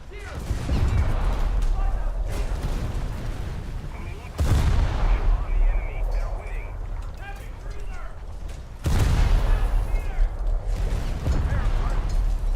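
Heavy naval cannon blasts from a boat in War Thunder boom out twice, each a loud broadband crack with a rolling tail, over constant engine rumble and scattered smaller gunfire.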